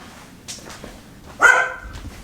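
Dog named Cece barking indoors in a kitchen: a soft bark early on, then one sharp, loud bark with a short whining tail near the end, close to the listener.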